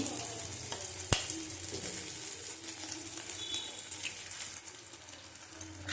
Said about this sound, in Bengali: ভালো করে আঁচ বাড়িয়ে এবার কষিয়ে নেবো